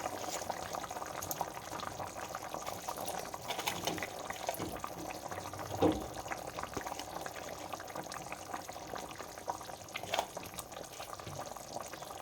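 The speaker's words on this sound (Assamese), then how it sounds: "এতিয়া এইখিনি আৰু ভালদৰে অকণমান উতলাই ল'ম।" Assamese-style bhokua fish curry with peas simmering in a pot, a steady bubbling boil with soft liquid gurgles and a few louder pops, close and fairly quiet, with no talk.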